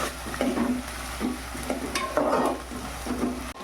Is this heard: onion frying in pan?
yes